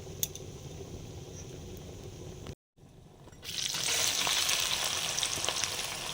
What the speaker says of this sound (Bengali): তেলটা দিলাম গোটা জিরে শুকনো লঙ্কা গোটা গরম মশলা